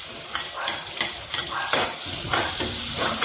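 Onion sautéing in a pan with garlic already browned for ginisang ampalaya, a loud continuous sizzle punctuated by rhythmic scrapes and taps of stirring, roughly twice per second, with no speech.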